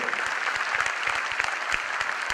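Audience clapping at a Modicare motivational business seminar, a dense, steady patter of many hands with a few sharper individual claps standing out, continuous throughout with no voices.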